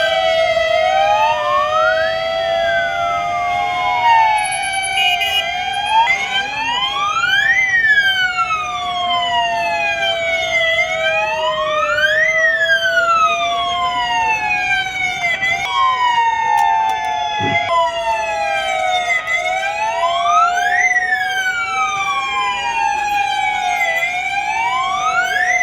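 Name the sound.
sirens sounding for blackout alert in Gwalior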